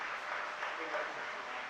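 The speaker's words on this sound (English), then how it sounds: "he walks off getting a great applause from this home Lacoste Field" Home crowd applause at a college baseball game, a soft, distant, steady clapping that runs throughout.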